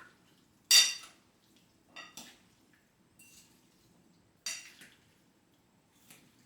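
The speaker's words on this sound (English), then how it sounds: "And again, you want to mix with your fork." Salted codfish escabeche being mixed with a fork in a dish: a few sharp, close metallic clinks and scrapes come at irregular intervals, separated by near silence, with no talking.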